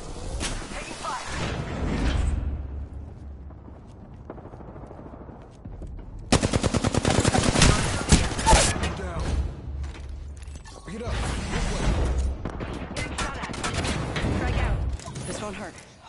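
Rapid automatic gunfire bursts from weapons in the shooter game Apex Legends, loud and close in dense volleys with pauses between, while a player talks over the action.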